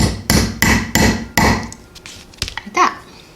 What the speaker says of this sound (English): then just hit it with the hammer